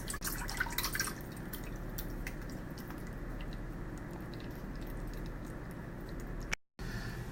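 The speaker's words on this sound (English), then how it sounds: "We're going to drain all the juice out." Juice drains from an opened can of Campbell's jambalaya soup in a soft, close, continuous trickle with occasional wet drips and squishes, then briefly cuts out near the end.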